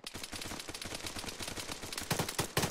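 Rapid automatic gunfire in the military game Arma 3, a dense run of quick, sharp shots at moderate distance, with a few louder bursts near the end.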